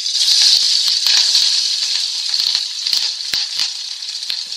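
Chopped green chillies fry in hot oil for pizza sauce, giving a loud, steady sizzle with crackling pops throughout.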